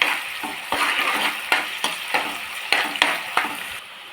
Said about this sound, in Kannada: ಸ್ವಲ್ಪ ಈರುಳ್ಳಿ ಲೈಟಾಗಿ ಫ್ರೈ ಮಾಡ್ಕೊಳ್ಳಿ.